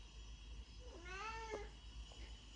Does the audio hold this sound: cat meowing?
yes